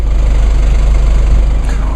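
A 2014 Chevy Cruze diesel idles right at the tailpipe, a loud, steady low rumble with an even pulsing throb and no voices.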